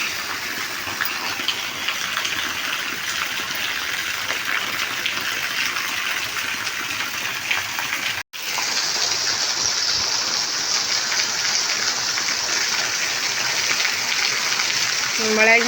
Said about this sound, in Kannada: ಅಷ್ಟು ಮಳೆಯಾಗ